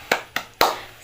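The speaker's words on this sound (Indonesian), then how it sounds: "Kalau Ibu bilang tepuk semangat seperti ini, nanti kalian praktekkan ya." Three sharp, separate hand claps in a quick rhythm from a class doing a clapping ice-breaker, close and crisp with short gaps between them.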